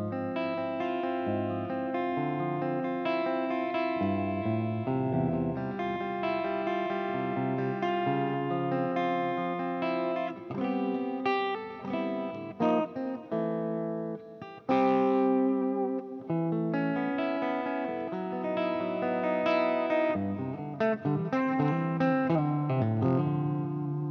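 Clean, slightly thin electric guitar with the guitar's volume knob turned down, played as a continuous melodic run with chords and single notes, at a steady moderate level and with no talking.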